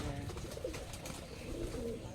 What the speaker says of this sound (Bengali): কবুতর এখানে সবগুলাই আছে